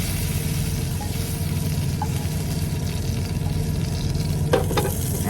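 Carne asada sizzles steadily on a griddle on a truck, a constant frying hiss under faint background hum, with a couple of scraping scoops near the end.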